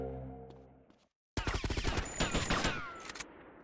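A short, loud burst of rapid GTA Vice City gunfire follows a brief silence, with shots hammering in quick succession for about two seconds before fading.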